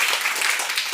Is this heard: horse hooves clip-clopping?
no